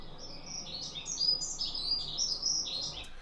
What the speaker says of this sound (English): There might be a bird flying away in panic.